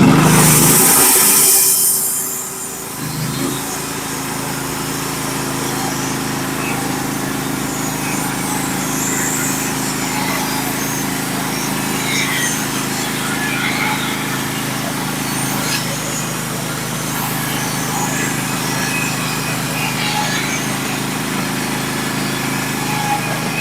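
A chainsaw mill cuts a large sycamore log with a loud, sustained high-pitched engine whine that stays steady through the cut after a brief rough start.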